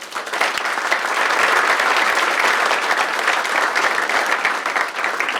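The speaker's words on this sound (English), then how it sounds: "So let's just give them a quick round of applause." Dense, steady applause fills a presentation hall at the City of Taylor's 2024 State of the City event, the clapping even and sustained at close range throughout.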